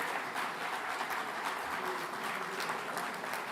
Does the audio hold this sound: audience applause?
yes